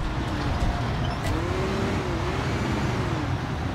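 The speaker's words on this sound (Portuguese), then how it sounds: "Entrar com o caminhão plataforma" A flatbed truck in Construction Simulator 2022 drives along with a steady, droning engine hum and road rumble, its pitch wavering gently up and down, heard alone and close throughout.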